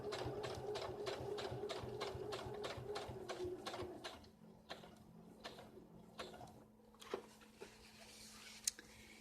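A sewing machine runs over winter coat fabric in a quick rhythmic burst for about four seconds, then gives way to scattered clicks and handling knocks as the needle stops and the cloth is shifted.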